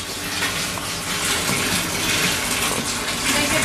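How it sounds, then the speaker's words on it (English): Water gushes steadily into a 2,000 liter tank at a plant, a loud continuous rushing wash with no pauses. "Filling the tank."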